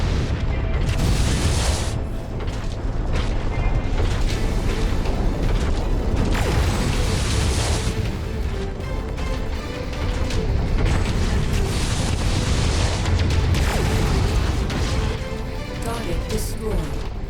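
A mech blowing apart in MechWarrior 5, heavy crashing booms and clanking mechanical bursts over a dense, loud battle bed, with a voice speaking intermittently.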